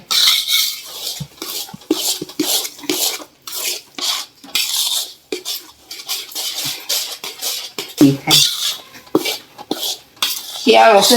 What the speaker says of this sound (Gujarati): હવે આને આ થોડીક વાર હજી શેકી લઈશું માવો ને લોટ મિક્સ કરીને